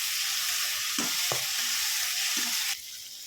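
Manathakkali (black nightshade) berries sauté in hot oil for a sambar, giving a steady close sizzle with a few soft stirring scrapes, until the frying noise suddenly drops away near the end.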